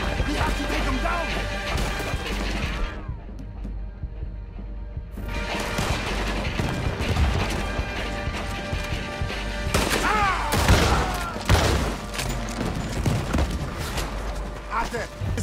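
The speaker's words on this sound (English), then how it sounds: "He's shooting!" Heavy gunfire and crashing impacts fill a Red Dead Redemption 2 battle near a tower and cannon, with loud volleys of shots, a brief lull, then more bursts and booms, while voices shout over the fighting.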